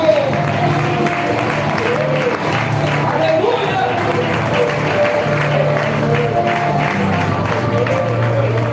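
Steady clapping from a church congregation throughout, mixed with voices and a loud shout, with music or a low hum underneath.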